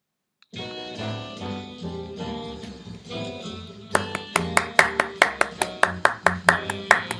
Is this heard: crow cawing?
no